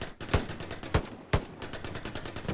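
Bursts of gunfire in a competitive 49-versus-49 online shooter match, several sharp loud shots punctuating rapid, lighter automatic fire that rattles on steadily, with no voices over it.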